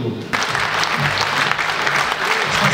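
An audience at an anniversary celebration for a phosphorite plant in Kingisepp bursts into sustained, dense applause that continues steadily, fairly loud and filling the hall.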